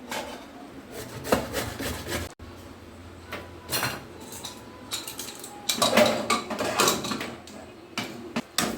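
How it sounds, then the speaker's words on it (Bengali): Ginger and coconut being grated by hand for a Bengali dish, irregular scraping and rasping strokes, close and fairly loud, with a few clinks of utensils. "এবার ঘষে নেব।"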